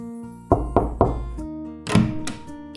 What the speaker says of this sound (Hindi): तो इसने इनके दरवाजे पर जाकर खटखटाया।